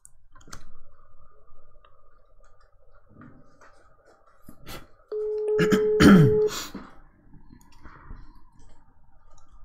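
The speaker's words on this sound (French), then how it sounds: "Et le numéro de téléphone est maintenant composé et lancé." A telephone call is dialed and starts ringing: scattered clicks come first, then a short burst of electronic dial tones and a steady ringback tone around the middle, all fairly faint, with no talk.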